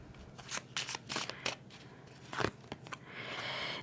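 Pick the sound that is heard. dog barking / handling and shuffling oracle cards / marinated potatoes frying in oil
handling and shuffling oracle cards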